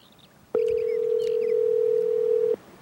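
A cell phone opened produces a steady, loud electronic dial tone held for about two seconds, starting and stopping abruptly, with faint room noise around it and no talk.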